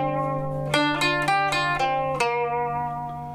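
Zhongruan, a Chinese plucked lute, sounds a few ringing plucked notes, each sharp attack followed by a long sustained decay, close and clear with no talking.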